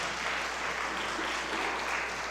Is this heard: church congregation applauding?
yes